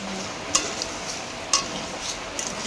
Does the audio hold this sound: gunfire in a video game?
no